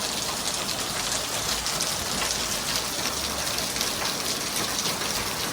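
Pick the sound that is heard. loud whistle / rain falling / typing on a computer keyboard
rain falling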